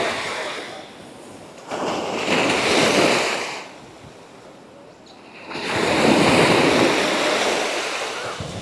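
Sea waves roll in at Uluwatu beach in Bali, two loud surges of surf washing close by with a quieter hiss of receding water between them, and no voices.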